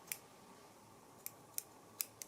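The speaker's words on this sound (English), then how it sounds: "scissors must be getting dull, huh?" Scissors snipping yarn while finishing a crocheted plastic bag holder: five sharp, quiet clicks spread unevenly across the span, close by over a low hush.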